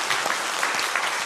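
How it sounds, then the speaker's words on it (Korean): A church congregation at a year-end service applauds to glorify God, giving a brief, dense wash of clapping from many hands, no talking. "우리 하나님께 영광 박수 한번 돌립니다."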